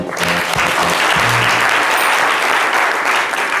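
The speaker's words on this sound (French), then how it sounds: "Applaudissements pour elle." A crowd claps steadily and loudly throughout, a dense, continuous wash of applause with a voice briefly heard at the start.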